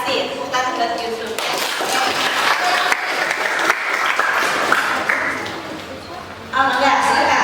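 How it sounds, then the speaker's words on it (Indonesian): Loud, close applause from a group in a classroom or workshop setting, with voices talking over and between the claps before the noise briefly dips. "Tepuk tangan buat Yusuf."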